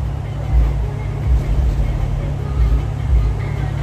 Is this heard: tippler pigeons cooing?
no